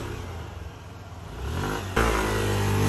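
Motorcycle fitted with a bolt-on valve spring engine upgrade revving up, the engine note climbing from a low idle to a louder, sharper roar that holds near the end, close and clear.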